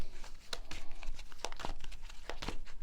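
Tarot cards being shuffled by hand, a run of soft papery crinkles and sharp riffling snaps, close and fairly quiet, with no voice over them.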